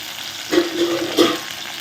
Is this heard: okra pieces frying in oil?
yes